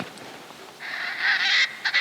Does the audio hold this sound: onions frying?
no